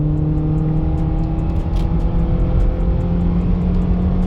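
A 2007 Toyota RAV4 2.0 automatic engine droning steadily under load, accelerating uphill from a standstill, pulling up in pitch as it gains speed, loud and close from inside the vehicle.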